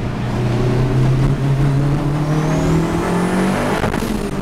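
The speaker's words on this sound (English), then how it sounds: "now he's going to take the revs up" A car engine with a Holset turbocharger, running FreeEMS engine management, revs hard and climbs steadily in pitch for a few seconds, loud and close, then drops off near the end.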